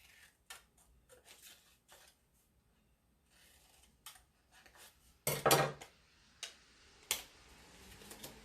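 Scissors snipping along the lines of a paper puzzle, a series of short, crisp cuts at an irregular pace with quiet gaps and one louder, longer cut, close and without speech.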